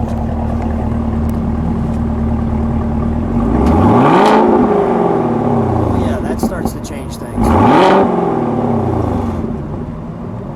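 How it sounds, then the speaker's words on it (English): A 2017 Chevrolet Camaro ZL1 V8 in sport mode revs twice, each blip rising to a loud roar and falling back to a rumbling idle, with a voice speaking briefly between. "All right, let's hear that. Let's give it some revs."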